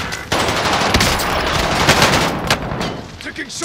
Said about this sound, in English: Taking shots over here.